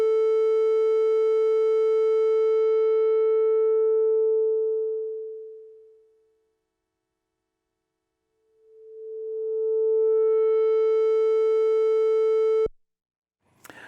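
A Minimoog analog synthesizer holds a steady buzzy tone while its filter cutoff sweeps down until the sound closes to silence, then sweeps back open to full brightness, followed by a sharp click.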